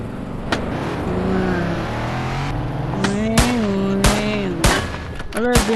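Bursts of video game gunfire crack over a steady car engine drone during a driving game, several sharp close shots toward the end with no clear talk.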